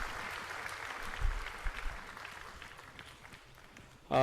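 A retreat audience at Shanti Sarovar gives a soft, distant round of applause after a song, steady clapping that fades gradually over a few seconds before a sudden louder sound at the very end.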